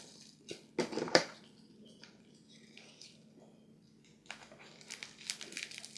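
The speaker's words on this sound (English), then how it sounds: "I've got 4 packages here. And they are wrapped in a load of sellotape." Sellotape wrapping is torn and crinkled off fan mail packages, several sharp rips near the start followed by softer scattered crinkling and tearing at close range in a quiet room.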